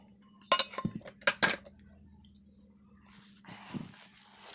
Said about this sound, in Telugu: సర్దేస్తున్నాను అన్నమాట బాక్సుల్లో